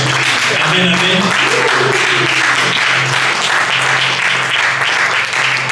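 Congregation clapping and cheering during a church sermon, a dense, steady roar of applause that fills the whole stretch, with a voice speaking over it.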